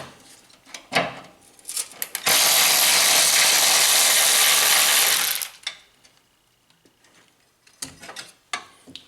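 A ratchet spins out bolts on a 2018–22 Honda Accord engine bay, with a few short clicks and then a sustained, loud clicking burst of several seconds, followed by quieter scattered clicks and taps.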